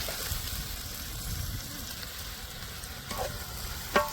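Cleaned, cut liver and gizzard pieces fry in a hot pan, a soft steady sizzle close by, with a couple of brief clatters and a sharp tap near the end, no voices.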